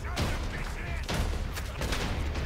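Gunfire in the Western video game Red Dead Redemption 2: a few loud, blasting shots crack out at intervals across a steady, busy game soundscape.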